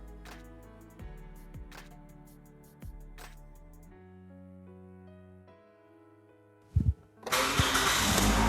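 A Toyota RAV4 engine cranks and catches near the end after a stretch of background music, settling into a loud, steady idle.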